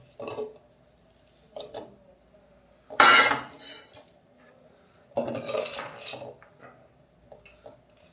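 Banana, apple and nuts drop into a blender jar in a few separate bursts, thuds and rattling clinks against the jar with quiet pauses between, close and clear without talk.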